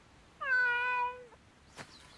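A single clear cat meow, close and fairly loud, lasting under a second against a quiet background, followed by a brief soft click.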